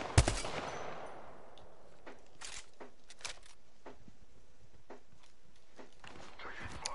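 Gunfire in Apex Legends, with a loud burst at the start followed by scattered single shots and short cracks at irregular intervals, some close and some farther off, against a quiet background.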